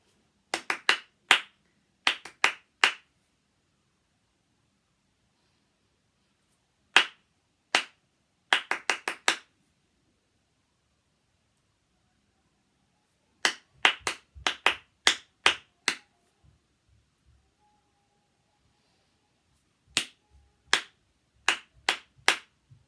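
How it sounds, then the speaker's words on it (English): Hands clapping in short rhythmic bursts of three to six claps, separated by silent pauses, for a clap-along rhythm game; crisp, close and loud with no talking. "So if you're in school, then just sit down and keep clapping along."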